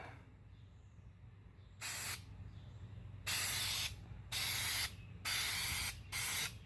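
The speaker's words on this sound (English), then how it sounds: "So I'm going to spray it on and let you guys see what that looks like." Four bursts of hissing primer spray from a spray nozzle, each lasting about a second, separated by short pauses, close by over a low steady hum.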